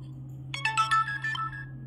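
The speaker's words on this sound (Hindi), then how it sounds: "और आपके फोन में नोटिफिकेशन रिंगटोन लग जाएगी।" A notification ringtone plays on an iQOO Neo 7 SE phone, a short bright melodic chime of several quick tones that fades over about a second, heard alone over a low steady hum.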